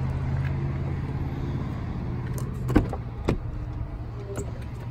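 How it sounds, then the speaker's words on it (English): A power deployable running board on a 2018 Ford F-150 Platinum runs with a steady low motor hum, marked by a couple of sharp clicks or thumps partway through. "there's your power deployable running board"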